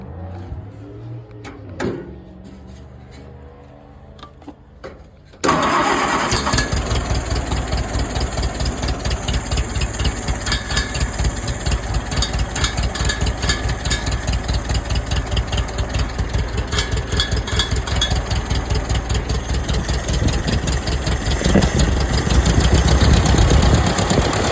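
An old $300 tractor engine cranks with a few faint sputters, then catches abruptly and settles into a loud, steady idle with a rapid, knocking rhythm that runs to the end.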